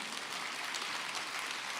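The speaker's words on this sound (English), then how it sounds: "they're clapping" Steady, dense clapping from a large audience filling an auditorium, continuous and even throughout with no voices standing out.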